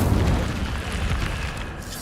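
Incendio fire spell cast in Hogwarts Legacy, a dense roaring whoosh of flame with heavy low rumble that stays loud and steady for about two seconds, with no talk over it.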